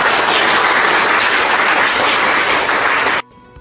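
Dense, steady applause from a crowd, loud and continuous for about three seconds before cutting off abruptly.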